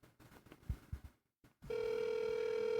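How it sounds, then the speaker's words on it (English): A ringing telephone in a roadside dirt ditch: after a few scattered knocks and noises, a steady electronic ring tone starts and holds continuously, fairly faint and at a distance. "Still ringing because it's that phone in that ditch because they tore it down."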